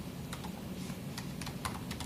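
Quick, light keystrokes tap out an irregular rhythm on a computer keyboard, close and clear over a low steady room hum, with no voices.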